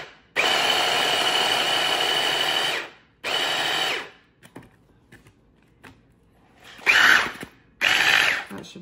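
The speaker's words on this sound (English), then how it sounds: "Just gonna bring it over to my blender again, which is right here. Just move that off, add that in, give it a quick whiz." Blender whizzing shrimp in quick pulses, a loud whirring burst of about three seconds, a shorter second burst, then two brief sharp pulses, with quiet pauses between and close-up handling noises.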